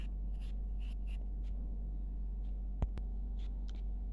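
Pencil writing the Marathi word for Tuesday in a children's workbook, a series of short scratchy strokes in irregular bursts over a low steady hum, with one sharper tap partway through.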